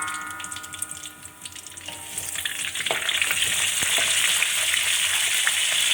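Cinnamon, star anise and pepper sautéing in a pan for Chettinad mutton varuval, a steady close sizzle that swells louder after a couple of seconds, with scraping stirs and light clinks.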